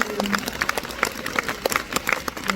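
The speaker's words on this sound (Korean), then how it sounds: "박수 한번 부탁드릴게요" Audience at a Korean film special screening Q&A for The Moon claps for an actor, a brief burst of scattered, uneven hand claps, fairly close, with no speech over it.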